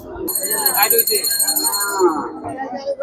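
A cow lets out a drawn-out moo nearby at a crowded Qurbani livestock market in Bhuapur, with other cattle and faint voices in the background and a high electronic tone above.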